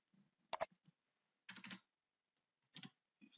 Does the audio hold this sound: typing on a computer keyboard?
yes